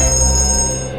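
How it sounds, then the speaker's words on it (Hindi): A telephone rings with a steady, loud electronic tone that holds throughout the moment, with no talking over it. "एक मिनट, फोन आ रहा है।"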